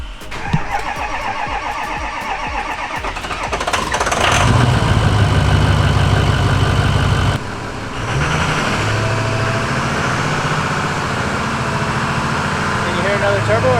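A Ford 6.0 Powerstroke diesel fitted with a compound turbo cranks, catches and settles into a loud, rough idle that runs steadily to the end, with voices talking nearby.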